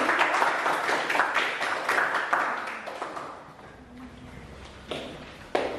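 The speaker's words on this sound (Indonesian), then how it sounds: "berikan aplaus untuk nomor 3" A classroom breaks into applause for student number 3, a burst of clapping for several seconds that thins and fades, with scattered taps and a few loud final claps.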